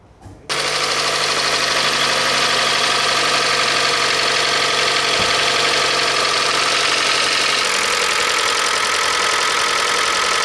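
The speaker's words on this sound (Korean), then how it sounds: "엔진 소음을 한번 들어보시죠" A Kia K5 engine starts loudly and settles into a steady idle with a fast, rhythmic ticking knock running throughout.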